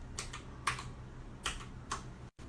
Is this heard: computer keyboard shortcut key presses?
yes